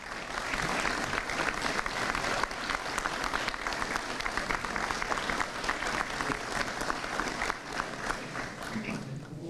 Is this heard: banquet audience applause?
yes